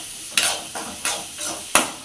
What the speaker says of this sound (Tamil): வெங்காயம், பூண்டு இப்போ ஒரு வதக்கு நல்லா ஹை ஃப்ளேமில் வச்சு வதக்குறோம்